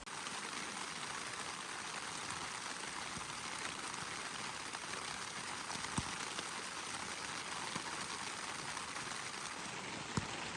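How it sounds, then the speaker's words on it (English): Rain falling on a tent in the Uinta Mountains, a steady soft patter that fills the whole stretch, with a couple of louder single drops standing out near the end. "it's been raining for nearly an hour out here"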